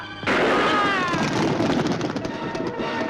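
A single sharp pistol shot cracks loudly near the start, followed by a long ringing, rumbling decay that fades over a few seconds.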